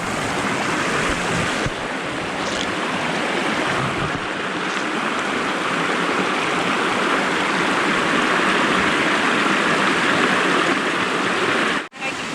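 Cold creek water rushes steadily and loudly close by, a continuous broadband flow with no pauses, heard alone.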